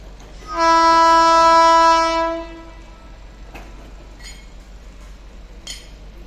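A WAP7 electric locomotive hauling the Chhattisgarh Express at Bhilai station on a sharp curve sounds one loud, steady horn blast of about two seconds, then a quieter rolling rumble continues.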